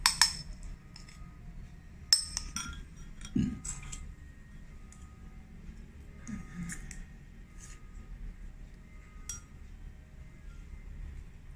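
A spoon scrapes and lightly clinks against a bowl as yogurt is scooped in, a few quiet taps and knocks spread over a mostly hushed background.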